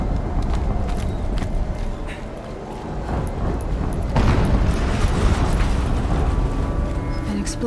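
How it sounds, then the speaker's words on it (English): Booming explosions rumble through a snowy outdoor scene in Horizon Zero Dawn, a dense continuous roar that swells louder partway through, with game sound layered over it. "An explosion."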